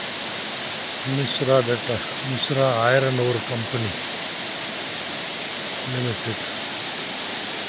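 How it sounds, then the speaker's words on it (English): Steady broadband roar of a waterfall near Rairangpur, close and constant throughout, with someone speaking briefly over it near the start and again later. "We have come to the waterfall."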